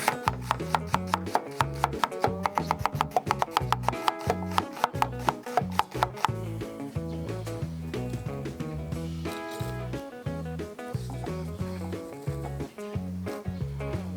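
An onion being cut into half rings on a board, giving a fast, steady series of sharp knife chops up close over constant background music, with no talk.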